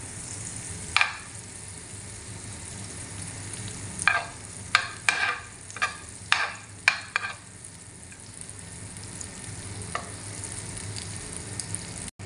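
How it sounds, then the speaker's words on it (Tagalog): Butter sizzles in a pan with a steady, quiet frying hiss while chicken sisig is prepared, broken by a series of sharp utensil scrapes and taps near the middle. "Lagyan na po natin yung butter."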